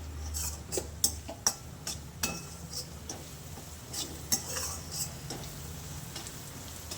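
Red chilli powder frying in oil in a pan while cooking kadai veg, a steady soft sizzle with repeated clinks and scrapes of a stirring spoon against the pan, close up and without speech.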